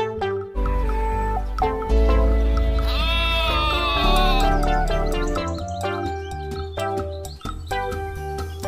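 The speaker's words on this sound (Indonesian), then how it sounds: "Ini adalah domba." Sheep bleating loudly and close, a long wavering call that rises and falls over several seconds, sounding alone with no voices over it.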